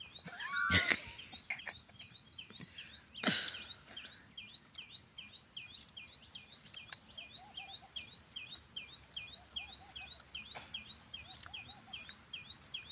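Rapid, repetitive high chirps from a parrot continue steadily throughout, with a couple of sharp knocks early on and faint background noise.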